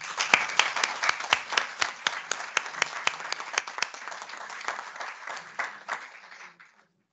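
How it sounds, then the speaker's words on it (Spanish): Audience clapping at a webinar on a new long-term care model, a crisp round of applause from a modest group that thins and fades out toward the end. "vamos a empezar, como siempre, con nuestro primer aplauso"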